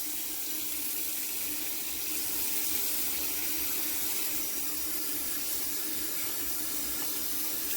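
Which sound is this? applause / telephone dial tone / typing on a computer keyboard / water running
water running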